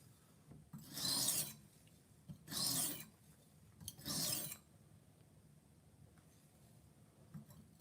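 A kitchen knife drawn across a coarse whetstone in three distinct rasping strokes, each about half a second long, close and quiet, separated by brief near-silent gaps with faint handling noise, no voices.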